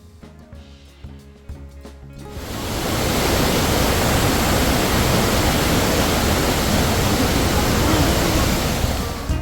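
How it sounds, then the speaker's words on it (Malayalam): A powerful waterfall swollen by monsoon rain on the road toward Valparai via Athirappilly and Malakkappara roars as a loud, dense, constant wash, rising in after a few seconds of quieter tonal sound. "ഇതെല്ലാം നല്ല പവറായിട്ട് തന്നെയാണ് വെള്ളച്ചാട്ടം ഒഴുകിക്കൊണ്ടിരിക്കുന്നത്"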